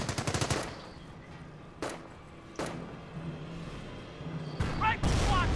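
Bursts of rapid machine-gun fire and single gunshot cracks from a World War II battle in the Company of Heroes strategy game, loud rattling volleys at the start and end with sharper isolated shots between.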